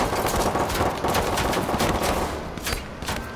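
Rapid automatic gunfire in a first-person shooter match, a dense loud burst of shots that continues for a few seconds, no voices.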